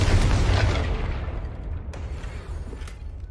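A Confringo blasting spell explodes in Hogwarts Legacy with a loud, close boom that hits hard at once, then rolls off into a long fading rumble, followed by a couple of faint later pops.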